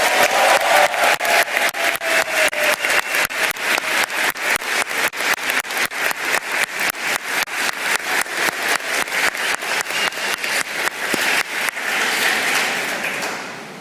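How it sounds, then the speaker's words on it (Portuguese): A chamber audience claps to welcome councillor Carlos Bolsonaro. The applause is loud and steady and falls into a fast, rhythmic unison beat that carries on for over ten seconds with no talking. "recebam com muitas palmas ele que está online hoje, o vereador Carlos Bolsonaro"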